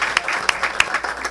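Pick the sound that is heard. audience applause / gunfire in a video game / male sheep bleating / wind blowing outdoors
audience applause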